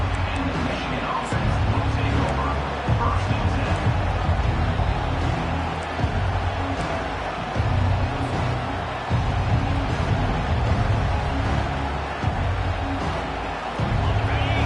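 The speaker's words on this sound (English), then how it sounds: "Listen to this crowd." Stadium crowd at a Michigan vs Iowa college football game, a continuous loud roar of thousands of fans that swells and pulses, with an announcer's voice over it.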